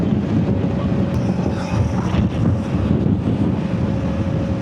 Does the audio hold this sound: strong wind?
yes